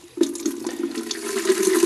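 Tap water pours into a 3-litre watering can through a water meter kit, a steady close gushing fill that starts abruptly and keeps running with splashy bubbling, no voices.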